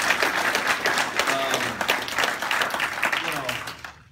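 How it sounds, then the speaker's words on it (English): Crowd applause at a jiu-jitsu 3rd degree black belt promotion, a steady wash of clapping from a room full of people with voices talking and cheering over it, fading out at the end. "round of applause, man"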